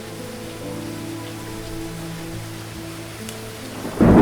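Thunderstorm at night: a steady wash of rain with a low hum underneath, then a sudden loud roll of thunder breaking in at the end.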